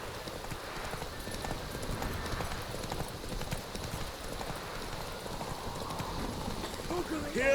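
Roach, Geralt's horse in The Witcher 3, gallops in steady, rapid clip-clop hoofbeats across the whole stretch, loud and close over a dense ambient bed, with a faint whinny possible near the end.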